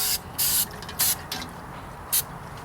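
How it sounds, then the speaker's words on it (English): Several short bursts of non-stick cooking spray coating a cooker's surface, each a sharp hiss lasting a fraction of a second, with brief pauses between them. "we're going to spray some non-stick cooking spray on this surface in here, all around."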